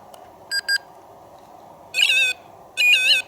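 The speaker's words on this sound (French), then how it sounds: "J'ai le pod qui sonne." A paranormal detection pod beeps in a quiet room: a short double electronic beep, then two longer bursts of warbling high-pitched tone, clear and close over a low background hum.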